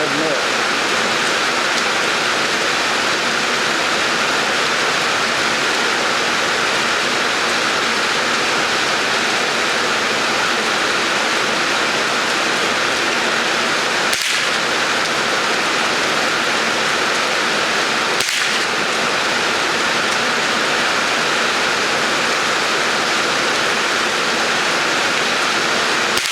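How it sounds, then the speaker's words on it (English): Steady, loud outdoor rain hisses without a break, with two brief knocks partway through. "I don't want to walk out in the rain and get all wet"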